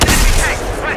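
Rifle shot in a tank video game, one sharp loud blast with a booming decay over about a second, heard alone.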